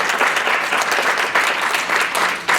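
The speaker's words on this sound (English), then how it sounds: "And let's give her a round of applause." Steady, dense audience applause at a Black History Month celebration, a full room clapping continuously and fairly loud for a couple of seconds.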